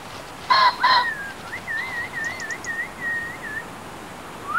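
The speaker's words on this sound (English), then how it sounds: "Autumn concentrations of pheasants at release pens are a tempting target for hungry goshawks" Pheasants calling around autumn release pens in woodland: a couple of harsh bursts near the start, then a run of thin whistled notes and a later call, close and fairly clear against quiet background hiss.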